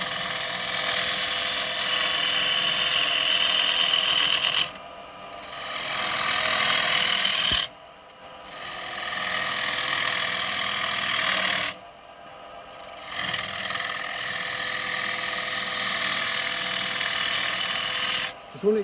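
A 3/8 bowl gouge cuts a wooden bowl spinning on a lathe, giving a loud, steady rasping scrape in long passes broken by brief pauses as the tool lifts off.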